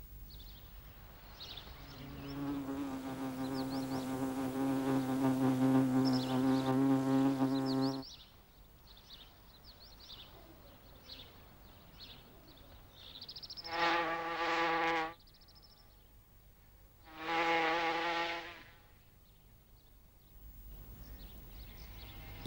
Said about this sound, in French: le premier réflexe de toutes les guêpes fondatrices est de chercher un endroit propice où installer leur nid